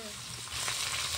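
Onions and tomato sauté in a pan, a brief close sizzle that swells slightly louder partway through.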